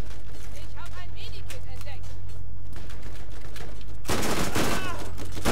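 A sniper rifle in the Borderlands shooter fires one loud, sharp, close blast near the end. Quieter game sounds and a voice come before it.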